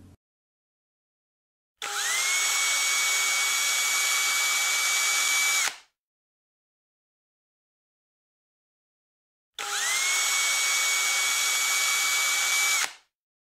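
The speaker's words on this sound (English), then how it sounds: "Drill 1/4-inch holes at the marked locations." A power drill bores 1/4-inch holes in a transducer mount held in a vise, two loud sustained whines each lasting about four seconds, separated by silence.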